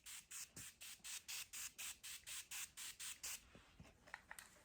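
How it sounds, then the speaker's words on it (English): Makeup baking setting spray misted from a pump bottle, about fourteen quick rhythmic hissing bursts close to the mic, followed by a few soft clicks and taps. "Now I'm going in with my baking spray."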